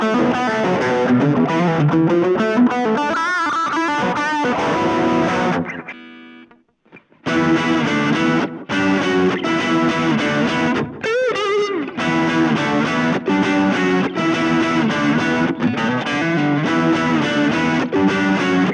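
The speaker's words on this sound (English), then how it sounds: "let's check out what we can see on the overdrive / distortion channel on it." Overdriven electric guitar through a Blackstar Fly mini amp on its overdrive/distortion channel, gritty distorted chords and riffs played continuously, with a brief pause partway through.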